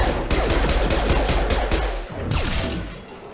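Rapid pistol gunfire in Mass Effect 2, loud, closely spaced shots and impacts cracking through a hectic combat mix, with no talk.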